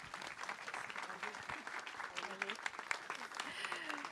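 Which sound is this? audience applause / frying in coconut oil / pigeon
audience applause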